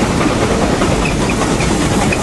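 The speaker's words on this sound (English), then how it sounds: "the train engine is now pulling the train and the smoke and cinders coming back over the train" A steam locomotive on the Cass Scenic Railroad hauls its train up a hill, a loud continuous roar and hiss of steam and rolling cars heard up close, with no voices.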